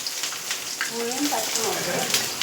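Soft, continuous sizzling of onions frying in hot oil after mustard seeds have popped, with faint tonal sounds and light crackles over the steady hiss.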